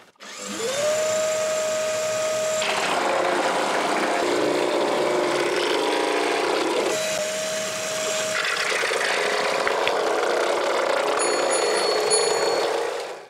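A plastic lid on a homemade mini air conditioner being cut through with holes, a continuous loud grinding, whining cut with a tonal hum that stops and restarts, close and alone.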